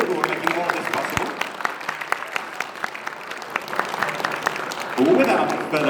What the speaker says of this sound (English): a huge round of applause, please, for our wonderful door and security and our AV crew